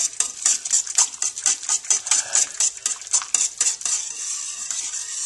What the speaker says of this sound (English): I've got all my roux into my stock, and I'm going to mix it here,